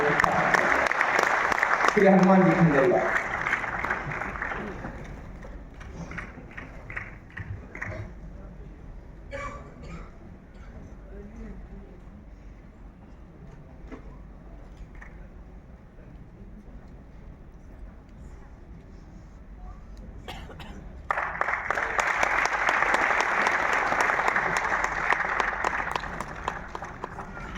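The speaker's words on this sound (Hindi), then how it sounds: "आपसे आग्रह करता हूं कि जोरदार तालियां बजाकर आपका" Audience applause at a public memorial gathering, a loud burst at the start, then quieter talk from a man at a microphone, then a second strong round of clapping near the end.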